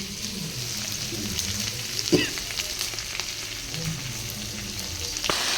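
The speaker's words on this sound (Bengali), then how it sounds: "এই শাক ভাজা বসিয়ে দিয়েছি, একটু পেঁয়াজটা ভাজা ভাজা হলে শাকটা ভাজা দিয়ে দেবো।" Onions fry in a pan for cooking greens, giving a continuous close sizzle with a few stirring scrapes and one sharp clatter.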